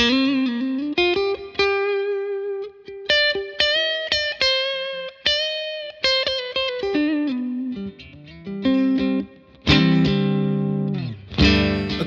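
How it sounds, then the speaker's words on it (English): An electric guitar played through a Victory VC35 The Copper amp with plate-style reverb and minimal pre-delay, with plucked single notes and short phrases ringing out, loud and close, ending in a few strummed chords. "And the reverb, it's like minimal pre-delay on that. And then you get this nice sort of, it's like a plate reverb."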